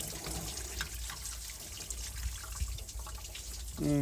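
Engine coolant draining from a 2007–2013 vehicle's thermostat housing after the thermostat is pulled: a faint, steady trickle of liquid that runs throughout, with a brief clatter near the end.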